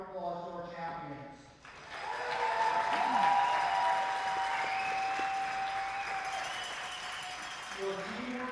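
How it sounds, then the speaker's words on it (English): Arena audience applauding the champions after a women's curling championship final in Alberta, a broad wash of clapping that swells in after a brief lead-in and holds steady. "let's give another huge round of applause to our champions"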